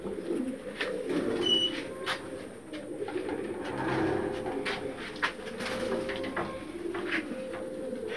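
Madrasi pigeons, a long-kept breeding pair of Pulsar and Arshad lines, coo softly in a loft, low murmuring calls repeating steadily over a dense background hum, with scattered faint chirps.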